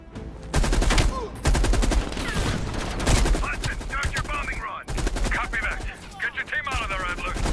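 Heavy machine gun in Call of Duty: Black Ops Cold War pounds out long, loud, rapid bursts of fire with only brief pauses, and shorter whooshing effects are layered over the later volleys.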